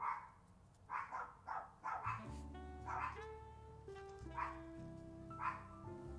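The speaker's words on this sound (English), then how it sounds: "why are the dogs so noisy today?" Dogs bark nearby in short repeated bursts, several sharp barks spaced irregularly, over quiet background music.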